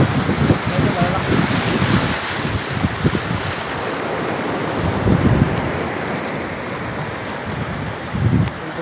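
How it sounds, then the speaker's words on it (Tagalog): Big ocean surf crashes continuously against a shoreline where someone is fishing with a rod, with heavy wind buffeting the microphone and louder wave surges around the middle and end. "Oh, malalaki ang alon."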